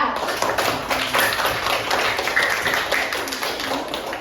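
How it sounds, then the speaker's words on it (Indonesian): Students in a classroom clap their hands for a group's presentation, a quick, fairly even patter of many small claps at moderate volume, close and steady throughout. "Kita kasih tepuk tangan dulu ya"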